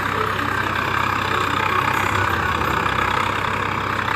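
A Swaraj 855 FE 55 hp tractor runs a super seeder in a soft, double-harrowed field while sowing wheat, its engine a loud, steady drone at about 1200–1500 RPM.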